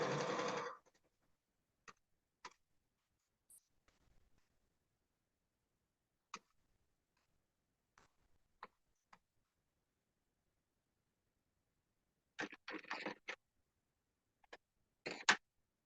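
A sewing machine stitches a quilted mug rug in short, faint bursts, with a longer run at the start and a cluster near the end, separated by long quiet gaps.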